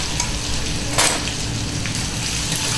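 Chopped onions fry in hot oil with half a bay leaf and one black cardamom pod, giving a steady, dense sizzle and crackle that runs through the whole stretch with one brief louder splutter.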